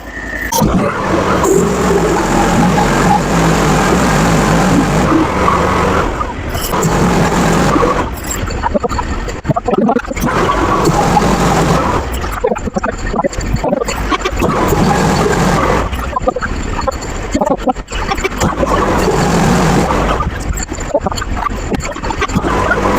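Sawmill fitted with a carbide blade cutting through ancient hard maple, a loud sustained grinding roar close by that rises and dips as the blade works through the log.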